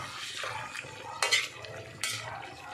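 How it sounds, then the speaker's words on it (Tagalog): Pork binagoongan with shrimp paste being stirred in a pan, metal utensil scraping and clinking against the pan in a few sharp strokes over a low sizzle, close and alone. "Haluin natin"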